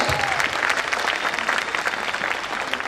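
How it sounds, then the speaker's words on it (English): Audience applause for young children at a pre-primary school annual day celebration, steady dense clapping from a crowd filling the whole stretch, fairly close and uninterrupted. "I feel the claps are not enough for them"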